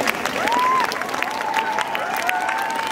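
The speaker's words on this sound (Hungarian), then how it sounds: "szerintem egy nagy tapsot megérdemel." A crowd applauds at an outdoor Christmas lights ceremony in Székesfehérvár after a children's choir sings, the clapping loud and steady, with a voice and a few whistle-like tones rising over it.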